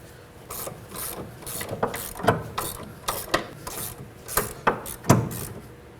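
A ratchet tool tightens an inner tie rod on a 2011-2016 Kia Optima, clicking in a steady series of close, sharp pawl ticks with rasping strokes between them, no talk.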